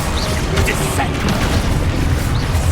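A Descendo spell is cast mid-fight in Hogwarts Legacy, and a heavy booming slam rolls under a thick wash of combat noise. Short chirping effects and brief voice fragments cut through, all loud and close.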